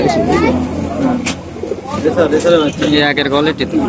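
Pigeons coo among a crowd at the Benapol pigeon market, the soft repeated calls running under steady talk and haggling throughout.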